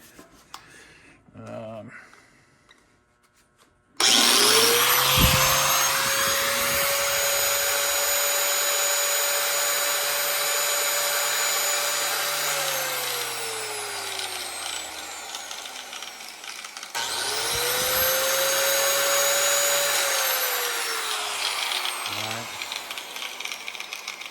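A big Hitachi power tool running from a Licitti 2000 W solar generator snaps on loudly after brief talk and whines steadily, then winds down. It starts again for a second high-pitched run, close and dominant.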